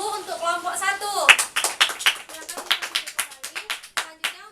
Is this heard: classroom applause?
yes